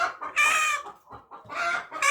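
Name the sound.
hen clucking after laying egg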